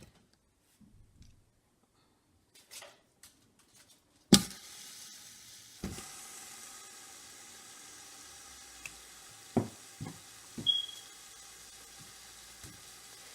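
Beef short ribs dropped into a hot Power Quick Pot pressure cooker: after a few quiet clicks and handling sounds, a sharp splash gives way to a sustained sizzle, with a few louder pops as pieces settle.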